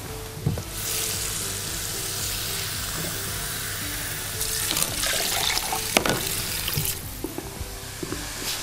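Water pours from a tap or jug into a saucepan along with orange juice and sugar for a syrup, a steady broadband splashing and rushing that swells and fades over several seconds, close and continuous.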